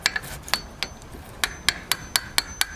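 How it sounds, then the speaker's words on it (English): A chisel taking a shallow cut along a door edge while a door is hung, heard as about a dozen crisp, sharp taps at uneven intervals, close by and without talk. "Now what I'm going to do is turn the chisel over, starting in the middle,"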